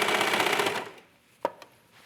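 A sewing machine stitches over a pleat in ribbed trim on a sports bra and tank, a fast steady mechanical chatter that stops after about a second, followed by a single sharp click.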